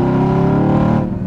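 A Stage 2 tuned Mercedes-AMG pulls hard along a winding canyon road, its engine note loud and close in a steady, harmonic-rich drone that eases off slightly near the end.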